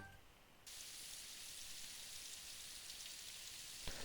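Light, steady rain from the visual novel game Symphonic Rain, a soft continuous hiss that swells in after a quieter opening and then holds even, with a small tap near the end.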